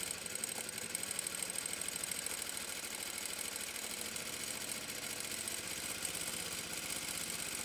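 A domestic sewing machine runs a long gathering stitch on fairly thick cotton, a steady rapid mechanical whir and needle patter held at an even pace throughout, close and alone.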